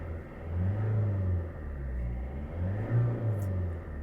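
A Maruti Suzuki S-Cross 1.6 litre diesel engine heard from inside the insulated cabin, a steady low rumbling idle with gentle swells, fairly muffled and without talk.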